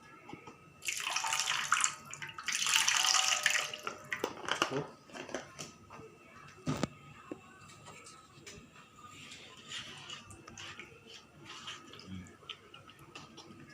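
Water is poured into cireng dough in a home kitchen, a couple of close splashing pours early on followed by quieter clinks and handling noises.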